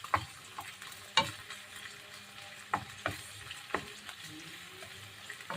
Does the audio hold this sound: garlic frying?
yes